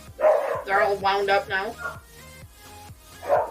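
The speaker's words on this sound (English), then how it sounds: "I apologize for the dogs barking in the background." Several dogs bark in the background in quick, repeated bursts, steady and fairly close, while someone speaks over them throughout.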